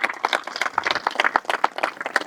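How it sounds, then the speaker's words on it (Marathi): A crowd at a Hanuman Janmotsav devotional satsang claps loudly and steadily, dense overlapping hand claps filling the space with a lively, uneven rhythm. "आपल्या स्वतःसाठी खूप जोरात टाळ्या वाजवायच्यात"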